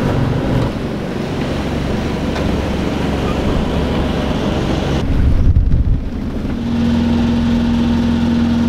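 A sailboat motor-sails under engine at about six knots. A low engine drone runs beneath strong wind buffeting and rushing water throughout.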